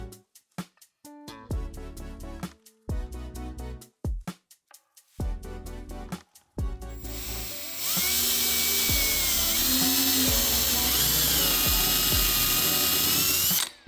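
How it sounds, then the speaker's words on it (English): A cordless driver sinks screws into a plywood plank on the batten of a 1956 Century Resorter boat, with several short whirring bursts followed by a long, loud, continuous high-pitched run, close and with no talking. "So that means just a couple of screws I can use to hold this down."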